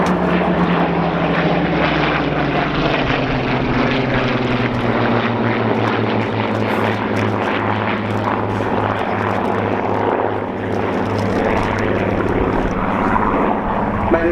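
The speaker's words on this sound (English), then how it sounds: "Following it is the Spitfire 19, one of 2 operated by the flight, the Griffon engine photo reconnaissance variant." A Spitfire 19 photo reconnaissance plane with a Griffon engine flies overhead at an air show, its propeller engine a loud, steady droning roar that holds for the whole stretch with a slowly shifting pitch.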